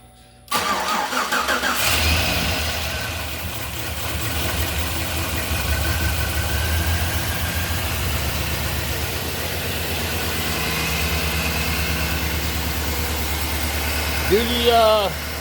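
A 2011 Chevy Silverado 1500 with a rebuilt 5.3 V8 cranks and fires up, then settles into a steady, loud idle for the rest of the stretch, with a brief rise near the end.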